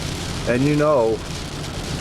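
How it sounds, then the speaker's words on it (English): Steady rain hisses over the car during a drive home, a constant broadband wash throughout, with someone speaking briefly over it partway through. "the rain we have, we're going at the same speed as the rain"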